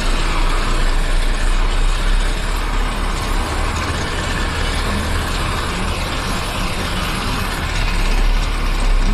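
Truck engine straining under load as it tries to pull out, a loud continuous low rumble with mechanical rattling that holds steady throughout, close by, with no talking.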